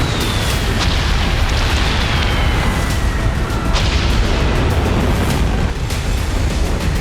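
A missile striking an Israeli airbase near Negev: a loud, continuous roaring rumble of explosion and fire that fills the whole stretch, dense and heavy, with a few sharper bursts and no voices.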